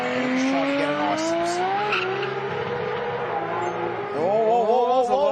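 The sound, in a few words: race car engine bouncing off the rev limiter, roll racing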